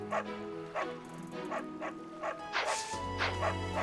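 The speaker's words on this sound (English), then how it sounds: "No, stop barking, please" A dog barks repeatedly in a quick, regular rhythm of sharp yaps at moderate distance, ending as a low hum takes over.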